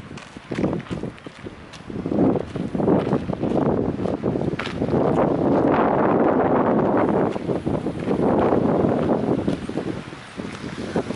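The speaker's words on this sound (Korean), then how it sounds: "타프가 날아갈 것 같이 바람이 많이 불어요." Strong gusts of wind batter the microphone at a beachside campsite at Sambong Natural Recreation Forest, a loud, roaring rush that swells and holds for several seconds, close and continuous, with no voices heard.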